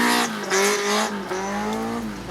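Original Toyota AE86 drifting on a wet track in the rain with hand-grooved tyres, its engine wailing loudly and rising in pitch through the slide, with a steady hiss of tyres over water.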